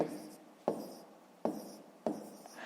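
Pen or pencil writing numbers by hand on paper while working out a multiplication, a soft scratchy stroke broken by three sharp taps as the tip lands, close and quiet.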